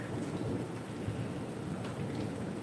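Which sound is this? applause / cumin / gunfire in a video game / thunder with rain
thunder with rain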